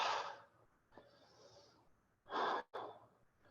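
Deep yoga breaths in an extended side angle pose, slow audible inhales and forceful exhales through the nose and mouth, close and fairly quiet, with pauses between breaths.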